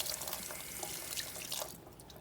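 Salmon being rinsed under a running kitchen tap, a close, steady rush of water splashing over the fish that thins out near the end, with no talking.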